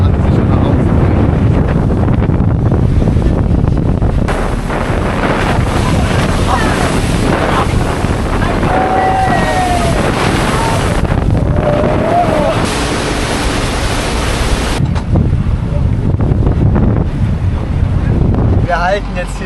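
Strong wind roars across the microphone over open sea between Coron and El Nido in the Philippines, with a boat's steady rumble and occasional faint voices underneath.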